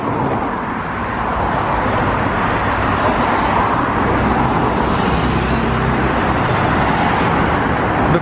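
A Lexus LS460 on the road, heard as a steady, loud broadband rumble of engine and tire noise with no breaks and no voices.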